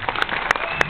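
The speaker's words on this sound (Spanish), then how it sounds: "Fuerte aplauso a nuestra coreógrafa Melissa" Light, sparse clapping from an audience at a resort dance show, a few scattered claps heard softly at some distance.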